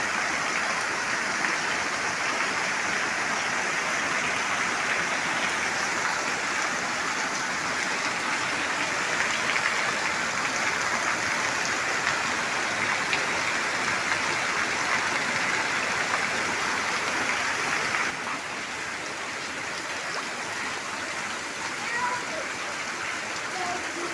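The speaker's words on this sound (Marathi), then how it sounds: "खूपच जोराचा पाऊस आला" Heavy rain pours down steadily in a dense, continuous roar, drumming on surfaces nearby.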